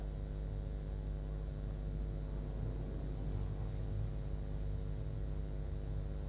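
A Red Arrows jet touches down at the Farnborough Airshow with a continuous broad, distant roar and rumble, steady throughout with no clear break.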